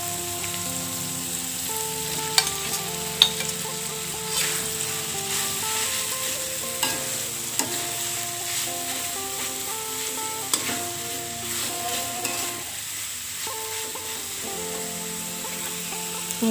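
Cassava leaves fry and get stirred in a pan, giving a steady, close sizzle with occasional scraping clicks of the stirring utensil and a faint tonal hum in the background, no voices.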